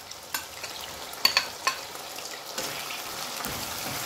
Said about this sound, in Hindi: इन सब चीज़ों को डाल के जो है ना अच्छे से हम भून लेंगे ताकि हमारा मसाला भी ज़रा पक जाए